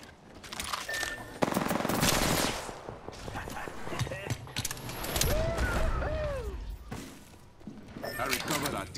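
Apex Legends gunfire rattling in rapid bursts amid mechanical clicks and reload sounds, loud and close in a busy mix, with voices talking over the action.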